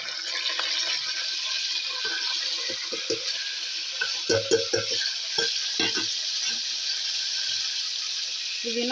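Green chillies, mint and coriander frying in hot oil for a goat head curry, a steady loud sizzle throughout with scattered stirring clatters and pops close by.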